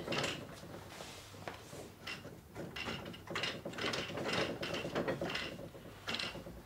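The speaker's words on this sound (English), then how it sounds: "Hear the clacking noise? That's engaging it. It's like a brake." A quilting frame's ratchet brake clacks repeatedly as the roller is wound, a close series of irregular mechanical clicks and rattles rising and falling over several seconds, with no voice over it.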